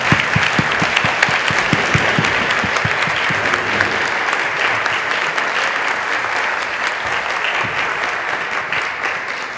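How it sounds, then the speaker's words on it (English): Audience applause at a closing plenary of a healthcare management conference, a dense, steady wash of many hands clapping close and loud for the whole stretch, slowly thinning toward the end with no speech over it. "Yeah, we can give applause."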